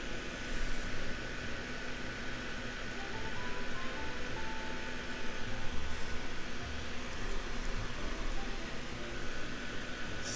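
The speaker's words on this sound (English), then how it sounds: "I'm sorry about the fan noise." Fan running steadily close by during soldering, a broad constant whooshing hum at moderate level with no talk over it.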